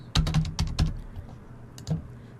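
Card details are tapped out on a computer keyboard in a few sharp, close keystrokes, clustered at first, then sparse with quiet gaps between them.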